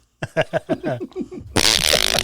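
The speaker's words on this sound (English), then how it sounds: "I have a fart button now." A fart sound-effect button plays a series of short, bubbly flatulence noises in quick succession, then a louder, longer blast of noisy sound follows.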